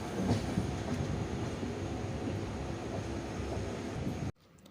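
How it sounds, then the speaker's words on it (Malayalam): Venad Express pulling into Shoranur Junction station over the link line after crossing the Bharathapuzha river, a steady rumbling train with faint clickety-clack that runs loud and continuous before cutting off abruptly near the end. "വേണാട് എക്സ്പ്രസ് തൃശ്ശൂർ ഭാഗത്തു നിന്ന് ഭാരതപ്പുഴ കടന്ന് ഷൊർണൂർ ജംഗ്ഷനിലേക്കുള്ള ലിങ്ക് ലൈനിലൂടെ ഇപ്പോൾ കടന്ന് ഷൊർണൂർ റെയിൽവേ സ്റ്റേഷനിലേക്ക് കയറുകയാണിപ്പോൾ."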